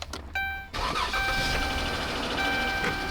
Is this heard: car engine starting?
yes